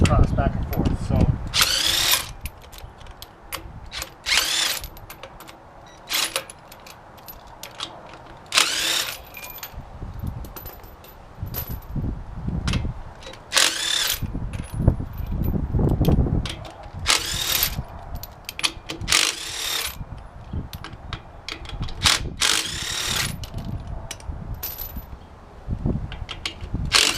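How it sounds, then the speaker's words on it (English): Ridgid power tool with a socket and extension spinning off lug nuts on the rear wheel of a 1994 Ford F53, short impact bursts repeating close by with clinks of metal between them and faint background noise. "I'm using the same socket that's for the lug nuts here with my extension, and I usually take these off."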